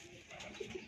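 A pigeon coos softly nearby in a brief, low, rounded call over faint background noise.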